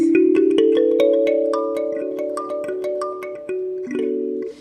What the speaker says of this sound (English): it's called a kalimba, and it sounds like this